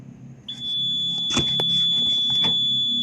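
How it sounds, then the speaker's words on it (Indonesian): A steady high-pitched electronic alarm tone starts suddenly and holds continuously, with faint clatter and handling noises underneath. "Nanti buzzer akan aktif."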